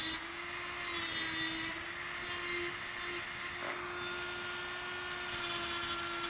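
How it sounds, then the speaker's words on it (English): An electric nail drill files pink acrylic on a backfill for pink and white nails, a steady high whine with a faint grinding rasp running continuously throughout, close and alone. "take your drill bit, your drill all the way across, drilling out the pink"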